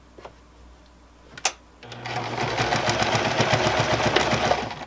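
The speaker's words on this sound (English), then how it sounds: "And straight stitch, kind of a bigger straight stitch." A sewing machine runs a long straight stitch across a cloth pad, starting after a couple of clicks and then humming and rattling steadily at close range with no talk.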